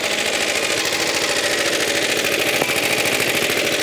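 A Suffolk Super Punch lawnmower engine idles steadily while warming up, a continuous close, loud mechanical drone with a fast, even running rhythm and no talking.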